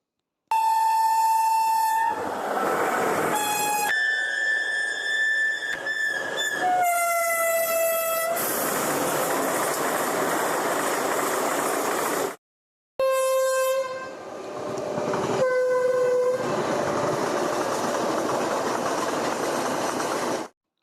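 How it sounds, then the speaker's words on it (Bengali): Trains and freight trains pass through a railway station, with repeated loud horn blasts over a steady, continuous rumble and rattle of wagons rolling close by. "বসে বসে অন্য ট্রেন মালগাড়িগুলোকে দেখি"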